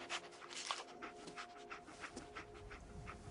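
Dogmeat, the companion dog in a video game, pants in quick rhythmic breaths mixed with short sniffs, close and fairly quiet, with no talking over it.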